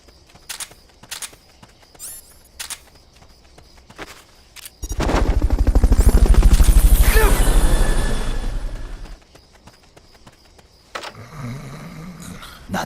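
Rotor thumping from a Metal Gear Solid: Peace Walker helicopter rises sharply, pulses loudly and fast for a few seconds, then cuts away, framed by scattered clicks and game effects.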